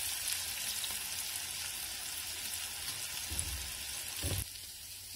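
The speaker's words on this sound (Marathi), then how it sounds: "आता दुसऱ्या साईडने पण आपण तळून घेऊ।" Slices of surmai (kingfish) shallow-fry in oil on a hot tawa, Malvani style, giving a constant fine crackling sizzle with a few soft bumps near the end; no voices are present.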